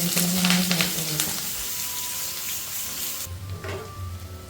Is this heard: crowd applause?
no